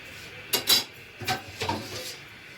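A metal lid clatters onto a cooking pot of Afghani Kabuli pulao, giving several sharp close clinks and knocks in quick succession, heard alone without talk.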